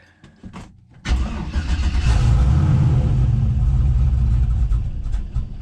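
A 1974 Chevrolet C10 squarebody with an LS swap and turbo cranks briefly with a few starter whirs, then catches and runs with a loud, steady, deep rumble that eases slightly near the end.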